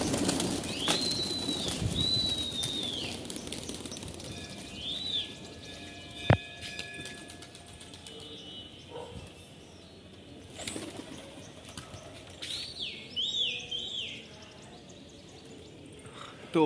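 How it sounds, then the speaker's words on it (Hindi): High-flyer pigeons set loose from a rooftop loft take off and fly, with scattered wing flaps, a few soft coos and distant chirps over a quiet outdoor background. "तो हमने सारे कबूतर उड़ा दिए, ये अपने कबूतर उड़ रहे, ये देखिए।"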